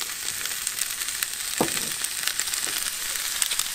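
Canned sauce being stirred in a hot cooking pan, with a steady sizzle and soft scraping strokes running throughout, close and moderately loud, with no voices.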